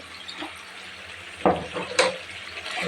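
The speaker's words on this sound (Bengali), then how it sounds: "মাংসটা আমার বোনা হচ্ছে এখন" Meat being bhuna-fried with a full mix of spices for kosha mangsho, with a soft sizzle under louder scraping and stirring strokes of the spoon in the pan, near and unhurried, and no voices.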